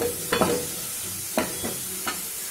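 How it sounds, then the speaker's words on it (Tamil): Tomatoes sautéing in a hot pan for coconut rasam, a continuous sizzle with three or four scraping stirs of a spoon. "அடுத்து தக்காளி வச்சிருந்தோம் இல்லையா அதையும் சேர்த்துக்கணும் நல்லா வதங்கட்டும்"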